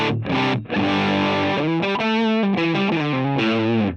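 An electric guitar plays through a Tonex tone model captured without compression, reverb or noise gate, giving a loud distorted tone with a quick run of picked notes and chords.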